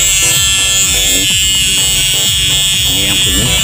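Faulty turn-signal relay under the dashboard of a Toyota Kijang gives a loud, continuous electric buzz with irregular pulsing, close up, while someone talks over it.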